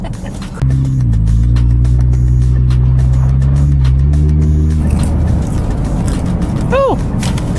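A 2020 Nissan GT-R Nismo accelerates hard close by, a loud deep engine drone climbing through the gears, then road and wind noise with a short squeal near the end.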